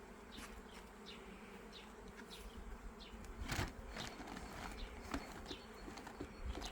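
A steady, dense hum of many honey bees buzzing close by at a hive, with a few individual bees zipping past louder now and then.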